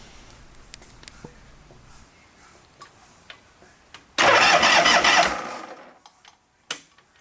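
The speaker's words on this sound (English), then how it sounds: "wanted to spin the starter over and make sure the starter would engage" A vintage Harley-Davidson Shovelhead's starter motor cranks the engine in one loud whirring burst of about two seconds that winds down, with scattered light ticks and clicks before it and a short thump afterward.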